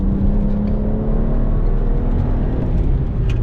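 A BMW 1M engine accelerates on a race track, a steady loud droning rumble with a whirring tone, heard from close by without any voices.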